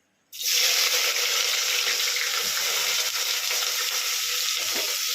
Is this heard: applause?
no